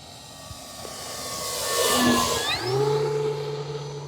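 An E-flite Carbon Z T-28 electric RC airplane, 2.0 m span, passes overhead with a rising whine that peaks and then drops in pitch as it flies by. The pass is loud and close, with no talk.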